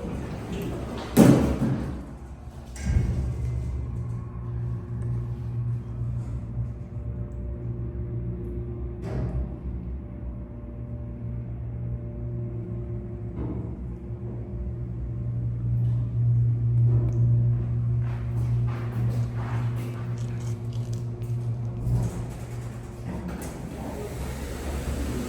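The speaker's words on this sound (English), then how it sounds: "this is the service elevator by JCPenney at King of Prussia Mall" A 1993 Schindler/MEI service elevator at King of Prussia Mall beside JCPenney: its doors thud shut with a couple of close knocks, then a steady low hum and rumble carries the ride for the rest of the clip.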